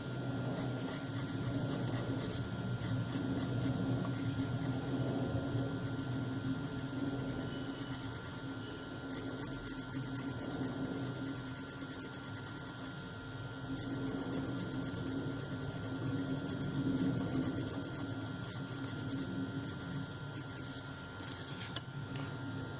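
White coloured pencil rubbing across a crepe paper petal for a paper rose mallow flower, a continuous soft scratchy shading sound in short steady strokes, close and quiet over a constant background hiss.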